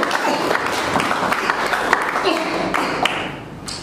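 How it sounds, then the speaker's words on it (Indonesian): Applause from a church congregation during a sermon, with brisk clapping mixed with taps and thumps that carries on steadily before fading slightly at the end. "Kita beri tepuk tangan."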